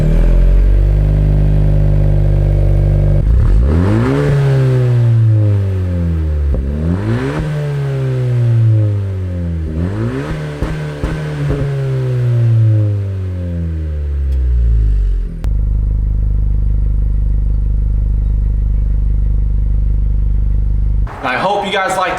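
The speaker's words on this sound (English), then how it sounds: "one of the name brand exhausts that's pretty big out there, Greddy, here's what it sounds like." A 2018 Honda Civic Si with a Greddy exhaust revs repeatedly and loudly up close, three or four rising engine sweeps that drop back to a steady idle drone, then a brief burst of other noise at the very end.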